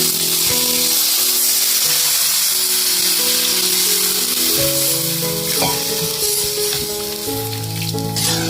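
Water goes into a hot pan of roasted masala and cashews for an egg curry, setting off a steady, loud sizzle and hiss that continues throughout under background music.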